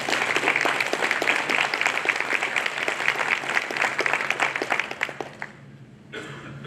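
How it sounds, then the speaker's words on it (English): Sustained applause from a reception crowd honoring honors college scholars at a spring graduation event, dense and loud clapping that fades out near the end, leaving quiet room tone. "So let's give them one more round of applause."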